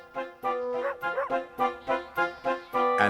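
A farmer's sheepdog barks repeatedly while herding sheep into a field, a steady series of close, clear barks in a regular rhythm, with no talking.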